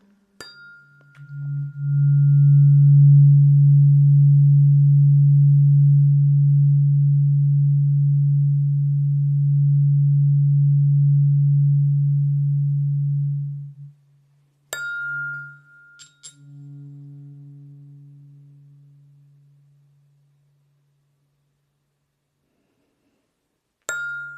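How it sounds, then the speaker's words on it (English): Weighted tuning forks are struck for a sound-healing session: a strong, pure low hum rings for about twelve seconds and then cuts off, followed by a few light metallic taps and a second, softer tone that fades away. "I'm going to play the weighted tuning forks, but keep in mind you are still receiving, even if you don't hear anything."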